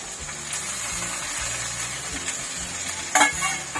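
Turmeric and chilli powder sizzling in hot oil in a pan for a bata fish curry with bottle gourd greens, a steady close frying hiss with rhythmic stirring scrapes and a brief clatter near the end.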